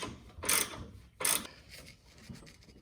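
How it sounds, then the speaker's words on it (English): A ratchet tightens the control arm bolts on a 1994-2004 Ford Mustang front suspension, making two short, sharp ratcheting bursts followed by quieter clicking. "I'm going to tighten these bolts down all the way on the control arms before I do that."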